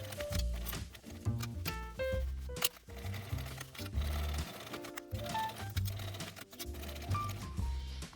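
A sewing machine bastes a pocket onto a bag, its needle clattering in short stop-start runs with small mechanical clicks between stitches, close and fairly quiet.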